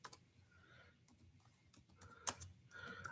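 Computer keyboard typing, quiet and sparse, with a few scattered key clicks and short bursts of keystrokes over a low background hum.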